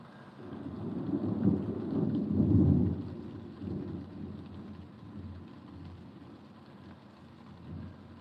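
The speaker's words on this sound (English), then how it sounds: "Yep, thunder." Thunder rumbling during a storm, low rolling booms swelling and fading over steady rain, fairly distant and moderately quiet with no voices.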